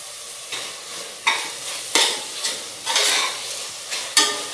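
Tomato and masala sauté in a pan for fish biryani, with a continuous sizzle broken by regular scraping stirs, roughly one each second, loud and close with no voices.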